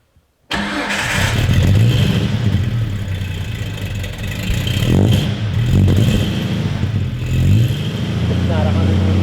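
A Jeep XJ engine cranks and catches after a brief silence, then settles into a loud, rough idle that swells slightly at times, with voices talking over it.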